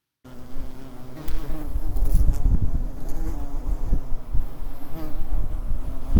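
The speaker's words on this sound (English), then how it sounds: "Carpenter bees are really large and often pretty loud, but generally not a threat." A large carpenter bee buzzes loudly and steadily nearby, its low drone rising and falling as it hovers.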